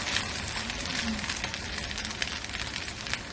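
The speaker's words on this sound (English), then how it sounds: "Lay bread on the heated pan and let fry a few minutes." Bread with thinly sliced cabbage fries in butter in a hot pan, giving a steady, close crackling sizzle with scattered pops throughout.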